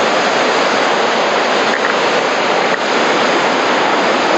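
Whitewater rapids on the Nolichucky River make a loud, steady, unbroken roar of rushing water that fills the scene from start to finish.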